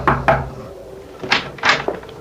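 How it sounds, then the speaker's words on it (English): Knuckles rap on a door at night in a radio drama, a few sharp knocks in two quick pairs, close and clear with no speech. "I crossed the driveway, rapped on the door."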